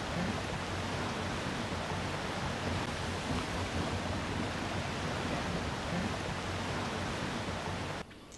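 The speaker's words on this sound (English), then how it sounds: "Or the stunning Lone Creek Falls near Sabie." Lone Creek Falls near Sabie, South Africa, pours as a dense, unbroken roar of falling water, loud and constant before dropping away abruptly at the very end.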